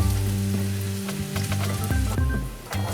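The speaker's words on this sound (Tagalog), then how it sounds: "Maglagay na tayo ng kunting mantika dito sa kawali para igisa ang bawang na ilang segundo o" Garlic sizzles steadily in hot oil in a pan, a loud close crackle with faint stirring clinks.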